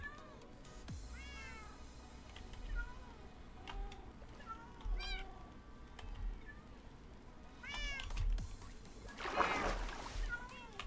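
Cats in the Minecraft video game meow over and over in short rising and falling calls, mixed with water splashing and faint game ambience.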